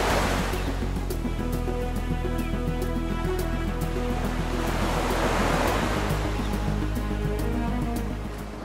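Sea waves wash onto Asgoli beach on the Konkan coast near Guhagar, a steady broadband surf roar with swelling surges, heard under continuous background music.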